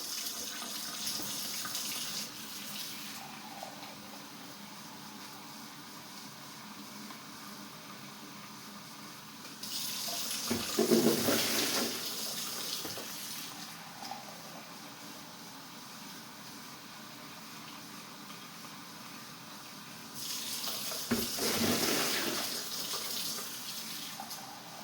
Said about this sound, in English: the next step is to add 20 cups of hot water to my pail